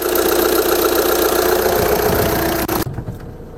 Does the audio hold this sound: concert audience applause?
no